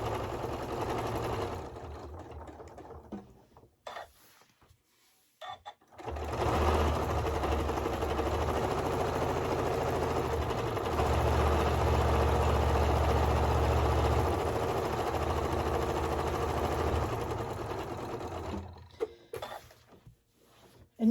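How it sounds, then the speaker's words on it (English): A sewing machine runs a regular straight stitch on a quilted holiday table topper, a steady close mechanical whir that starts, pauses briefly, then hums continuously for about twelve seconds before stopping and restarting in short bursts. "So we're just going to get started stitching. Just a regular straight stitch"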